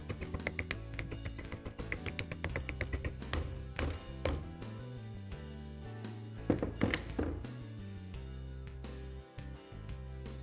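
A wood block hammered to knock a bearing grease seal into a travel trailer brake drum, a rapid series of sharp hollow knocks, then slower heavier thumps with short pauses between.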